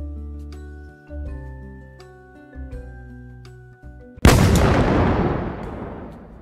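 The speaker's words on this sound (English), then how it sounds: "The blast from the cannon made the ship rock and roll." A single loud cannon blast booms suddenly after a stretch of playful music, its roar decaying slowly and filling the rest of the moment.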